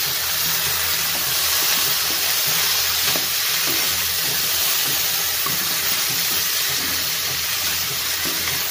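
Soybean and drumstick curry sautés with spices in a pan over medium-high gas, a steady dense sizzle and hiss with faint stirring scrapes throughout.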